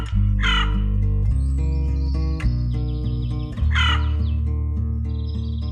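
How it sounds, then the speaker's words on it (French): A young crow caws at sunrise near a quiet refuge, two loud, harsh bursts of calls separated by a pause, heard over a steady layer of sustained background music. "Seule cette jeune corneille semble profiter encore quelques instants de ce calme."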